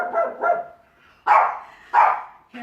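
An excited dog barks in loud bursts: two softer yelps at the start, a pause, then three sharp, close barks, the last cut off at the end.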